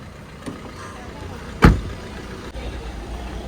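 A car pulling over to the roadside: a low, steady engine rumble with one sharp thump partway through, then the rumble carries on quietly.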